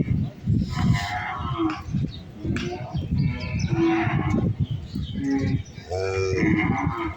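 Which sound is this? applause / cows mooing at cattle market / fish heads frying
cows mooing at cattle market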